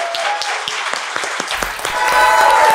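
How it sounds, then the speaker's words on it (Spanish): A burst of applause from a small podcast studio audience, scattered claps thickening into steady clapping and growing louder toward the end. "Un aplauso para Moisés Resnick."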